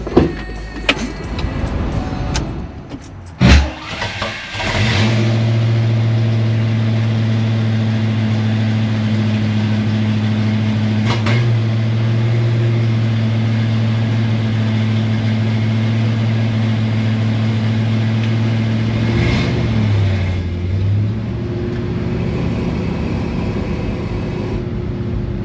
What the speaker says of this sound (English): I think I'm just gonna go drive it down the street and just see what it's like.